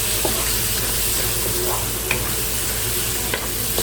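Bitter melon (karela) frying in a hot pan, a loud steady sizzling hiss throughout with a few faint taps and stirring sounds.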